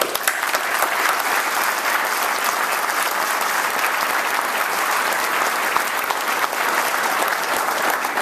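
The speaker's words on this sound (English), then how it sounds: "please join me in giving them a great round of applause" A packed crowd at a mayor's inaugural address applauds town employees with loud, dense, continuous clapping that holds steady for the whole stretch.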